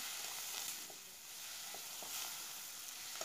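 Onions and fresh green turkey berries sautéing in a pan for sundakkai vatha kulambu, giving a soft, steady hiss of frying with faint stirring scrapes, fairly quiet and without voices.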